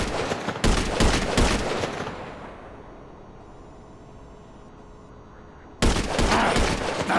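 Video game gunfire from GTA V: bursts of rapid shots crackle loudly at the start and again near the end, separated by a long stretch of fading echo and near-quiet.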